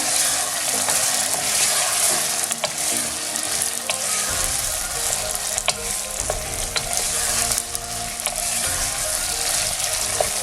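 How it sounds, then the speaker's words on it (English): Onions for a chicken and potato curry hit hot oil in a pan and get stirred, a loud continuous sizzle close up with scraping utensil clicks and a shift in texture partway through. "I'm just gonna add the onions now and give it a good stir"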